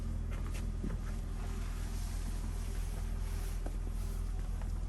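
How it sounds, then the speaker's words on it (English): A quieter Onan generator running on a Pleasure-Way Class B RV, heard as a steady low rumbling drone with constant hum and no pauses, listened to from inside with the door shut. "So this is what the generator sound."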